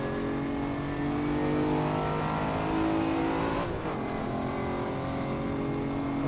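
A fast 1980s or 1990s supercar roars down a drag strip, its engine note loud and continuous at high speed, with a brief rush of wind or a shift partway through and no one talking.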